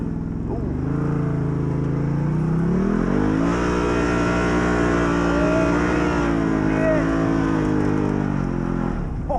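2021 Can-Am Maverick Sport XMR engine in high range, revving hard and rising in pitch as it climbs out of mud, loud and close with sustained throttle and brief shifts, voices occasionally talking over it.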